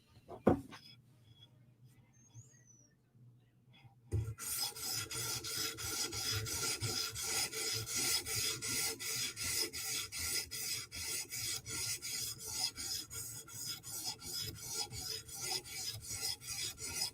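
A Sebenza knife blade is drawn over an 800 grit sharpening stone in steady rhythmic rasping strokes, close and continuous after a quiet start with a few small knocks.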